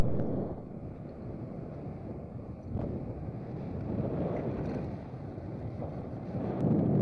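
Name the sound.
Miniplane Top80 paramotor engine running after start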